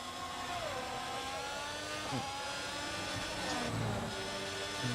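Formula 1 car engine in the F1 2023 video game at the Monaco Grand Prix qualifying, a steady high-pitched whine with rising and falling revs as it shifts through gears, fairly faint and continuous.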